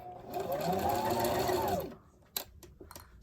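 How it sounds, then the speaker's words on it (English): A sewing machine running a zigzag stitch on fabric for a mermaid gaiter face mask, a steady close whirring hum for about two seconds that then stops, followed by a few light clicks and handling sounds. "And I'm doing a zigzag stitch, okay?"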